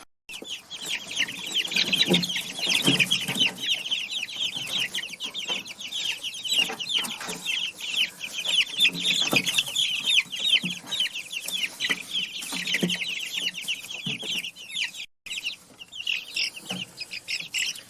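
Young chicks in a brooder with bedding over a wire floor, clucking and peeping continuously and closely, with a dense, busy chorus of short high calls and some scratching throughout.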